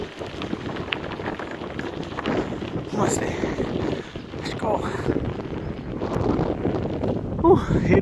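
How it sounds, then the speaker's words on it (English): A strong headwind buffets the microphone while someone rides a bike toward a marae at Waipiro Bay. The gusty roar rises and falls unevenly, loud and close throughout. "Headwind all the way."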